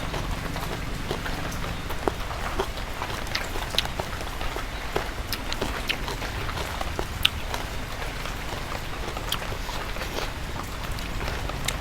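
Steady rain falls on a hard surface, a dense continuous patter with scattered louder drops throughout, close and fairly loud with no voices.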